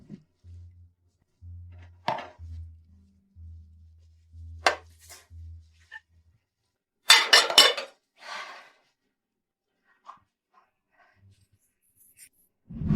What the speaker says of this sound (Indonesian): Malam hari setelah anak-anak tidur, Nyonya Muda masih mengambil pekerjaan cuci piring.